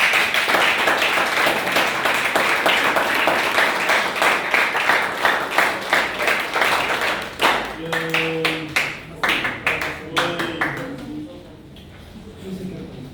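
An audience applauds at a criminal law lecture, dense loud clapping that thins into scattered separate claps and fades out, with a voice speaking over the final seconds.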